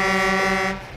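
Truck air horn in Euro Truck Simulator 2, driving a Scania R730, giving one steady sustained blast with strong harmonic tones that fades out after under a second, with no talking.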